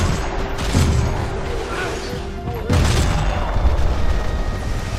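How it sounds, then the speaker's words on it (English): A firefight in the Max Payne 3 video game, with dense, continuous booms and gunfire blasts piling up loudly, plus a sudden surge of heavier impacts partway through and no talk. "Firefights are intense at normal speed and bullet time."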